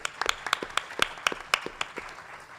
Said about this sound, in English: let's give Hanne a round of applause and welcome her to the panel